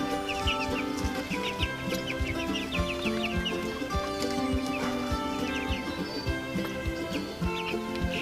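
Chicks and a duck share a pen, with continuous nearby clucking, soft peeping and chirps from several birds.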